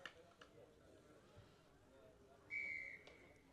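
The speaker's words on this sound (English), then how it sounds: "Referee's whistle goes." A referee's whistle starts a club rugby match between UCD and Clontarf: one sharp, steady blast of about half a second, heard under faint crowd murmur and commentary.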